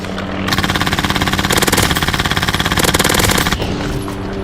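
An airsoft gun fires a rapid automatic burst of close, loud mechanical pops that run continuously for several seconds, with a brief change in tone midway and no talking over it.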